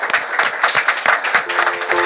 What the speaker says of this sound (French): Pourquoi vous acclamez comme si vous aviez mal aux mains?